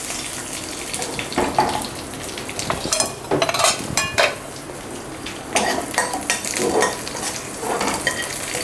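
Curry leaves, green chillies and garlic sizzle and crackle in hot oil while being tempered for a tadka, with a steady frying hiss, bursts of spitting, and occasional stirring clinks of a utensil against the pan, close and fairly loud.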